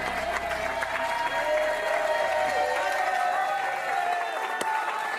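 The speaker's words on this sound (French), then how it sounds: "ces applaudissements là, quand on les voit, on est content de vous voir tous les deux" A studio audience on the French game show Qui veut gagner des millions ? applauds steadily for several seconds, a dense continuous wash of clapping with faint voices mixed in.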